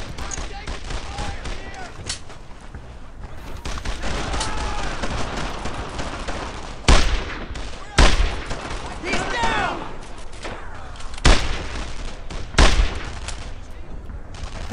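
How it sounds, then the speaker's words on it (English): Repeated gunfire in a World War II squad battle from Brothers in Arms: Earned in Blood, with sustained bursts running through the clip and several louder sharp shots near the end, mixed with shouted voices. "heavy base of fire!"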